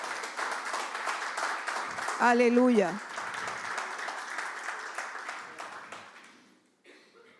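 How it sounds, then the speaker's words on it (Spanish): Church congregation applauding, a sustained wash of clapping that fades out near the end while a preacher exclaims briefly over it. "Dale un aplauso al Señor."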